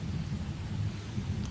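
Steady rain falls in autumn countryside near farm barns, a dense low hiss and patter that holds at an even level throughout, with no voices.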